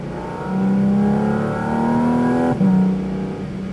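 A Porsche Cayman GT4 RS pulls hard around a race track, its engine note climbing steadily and loudly before a brief dip at a shift, then rising again close up with no voices over it.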